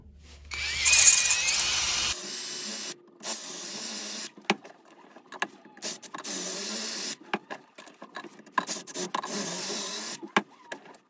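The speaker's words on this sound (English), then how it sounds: "you're just going to drill the holes." Short bursts of a power drill whirring, starting and stopping repeatedly, close by, with quiet gaps between each run.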